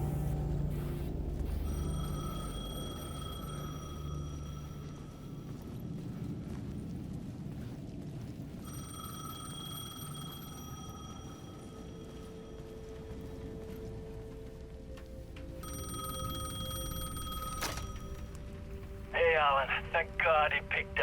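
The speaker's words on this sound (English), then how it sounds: "The payphone at the edge of the plaza was ringing again." A payphone at the edge of a plaza rings in repeated bursts of several seconds, fairly faint under a low ambient rumble, with a brighter rattle near the end.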